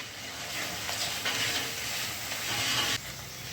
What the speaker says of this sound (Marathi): तेल सुटेपर्यंत आता ही असं परतूनच ठेवतो.